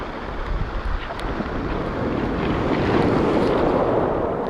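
A strong gust of wind buffets the microphone on a seashore during sea bass fishing, a loud, continuous rushing roar that builds steadily and stays heavy, with surf in the background and no one talking.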